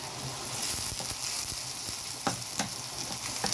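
Onions and green chili sizzle in a frying pan, a bright steady hiss close up, with a few soft clicks of a spoon moving through the pan.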